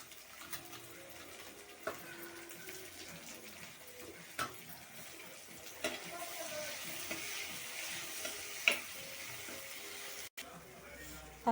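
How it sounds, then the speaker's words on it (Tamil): Tomato, coriander and curry leaves sautéing in a pan for a kuzhambu, with a quiet, steady sizzle and occasional soft scrapes and knocks of stirring throughout. "தக்காளியும் கொத்தமல்லி கருவேப்பிலை போட்டோம், நல்லா வதங்கிடுச்சு."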